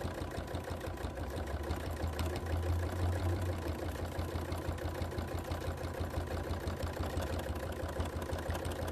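A sewing machine stitching around appliqué pieces, a steady, fast mechanical chatter with a low motor drone, running continuously at moderate loudness with no talk.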